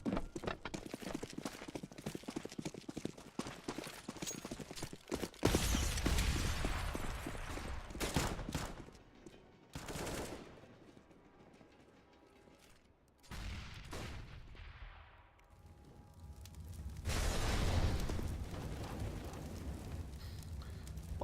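Gunfire rattles through a Counter-Strike round on the Train map, with pistol shots and rapid volleys coming in uneven clusters at moderate distance. Heavier bursts flare up around the middle and near the end.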